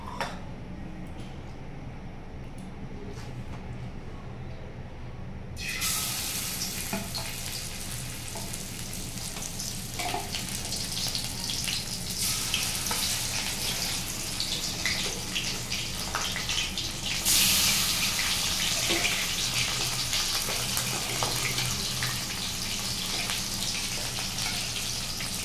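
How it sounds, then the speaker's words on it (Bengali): Steady loud sizzling of red sea fish frying in hot oil in a wok, the crackle jumping up sharply a few seconds in and intensifying again later. "কড়াইয়ের তেলটা গরম হয়ে গেছে। এবারে মাছটা দিয়ে দেবো।"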